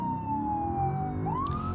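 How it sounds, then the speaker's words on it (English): Police siren on the Interceptor car in the BeamNG video game, a wailing tone that sweeps down and then back up over a steady engine drone, loud and clear with no talking. "Hear the siren"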